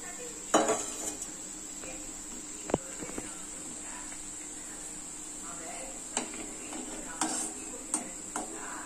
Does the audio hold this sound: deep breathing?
no